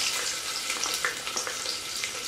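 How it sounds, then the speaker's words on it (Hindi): Onions sizzling in hot desi ghee for lauki ka salan, a dense, even frying hiss with small crackles throughout, close and continuous. "घी गर्म हो चुका है। अब मैं इसमें शामिल करूँगी प्याज"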